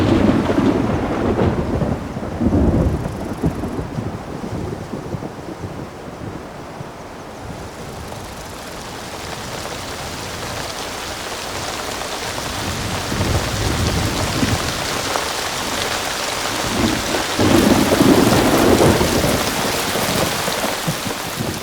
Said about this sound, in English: The monsoon has arrived.